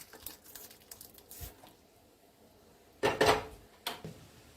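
Shallot kanji being moved into another pot, quiet scattered clinks and scrapes of metal utensils, then a louder cluster of clattering knocks near the end, with no talking.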